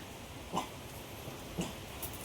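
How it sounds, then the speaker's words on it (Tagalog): A Shih Tzu gives two or three short, soft barks spaced apart, fairly close, over a noisy background. "At kakahol ng kahol."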